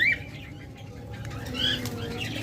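Caged budgerigars, cockatiels or lovebirds fluttering wings in short flurries, with a few high chirps scattered over a low background rumble.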